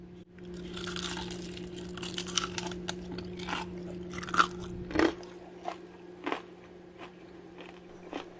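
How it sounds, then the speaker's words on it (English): Crisp crunching bites of Korean fried chicken coated with toasted sesame seeds, close up and fairly quiet, with a few sharper crunches standing out over a low steady hum. "I want you to hear the crunch on this chicken"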